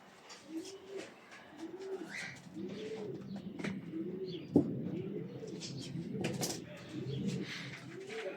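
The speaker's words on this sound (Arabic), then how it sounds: "حمام ريشة" Fancy pigeons at a farm coo in a steady repeating rhythm, about one soft rolling call per second, with faint chirps and a sharp click midway.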